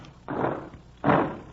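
A door in a radio drama, with two heavy wooden thuds about three-quarters of a second apart, close and fairly loud, like a latch and a door swinging open in a castle dungeon setting.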